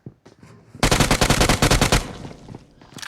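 Loud, dense automatic gunfire from the mobile battle royale game PUBG Mobile in a solo-versus-squad match, one sustained burst of rapid shots lasting about a second, with faint game sounds before and after.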